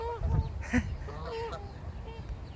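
Ducks resting in a crowded rearing pen give a few honking quacks up close, with nearby rustling and low background noise.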